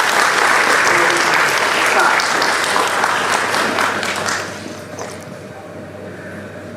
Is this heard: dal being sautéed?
no